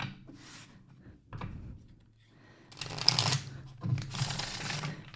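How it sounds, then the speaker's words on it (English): Stiff tarot cards being shuffled in several bursts of riffling and flapping, close and fairly loud, with quieter handling between them. "These cards are a little stiff and hard to shuffle, so bear with me."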